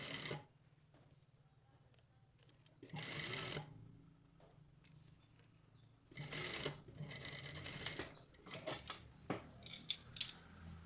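Sewing machine stitching a zipper into a pair of basic trousers, its needle running in several separate bursts with quiet pauses in between, close and fairly loud.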